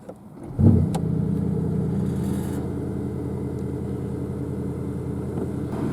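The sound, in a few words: Porsche Panamera Turbo S E-Hybrid engine starting up, sport exhaust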